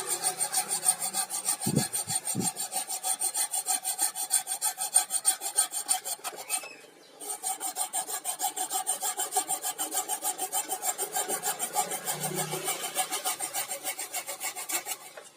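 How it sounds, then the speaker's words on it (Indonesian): A hacksaw rasps back and forth cutting an electric fan component, in steady, rhythmic strokes, continuous and close, with a brief pause midway before the sawing resumes. "Menggunakan gergaji besi"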